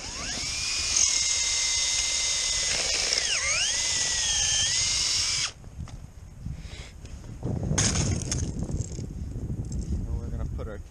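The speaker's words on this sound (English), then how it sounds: "So we're going to drill in." A high, whining power drill bores into a maple tree for a sap tap, running steadily, its pitch dipping as it bites in, then cuts off, followed by rustling and handling noises outdoors.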